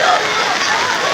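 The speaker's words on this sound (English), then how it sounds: "It is raining out here, look at it." Heavy rain pouring outdoors, a dense, even hiss of drops hitting surfaces, steady and close throughout with no break.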